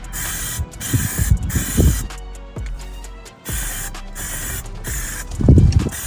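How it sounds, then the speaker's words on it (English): Spray paint hisses onto a tent in several long, steady bursts, close and loud, separated by brief pauses with faint handling noise in between. "Just doing a little wide spray."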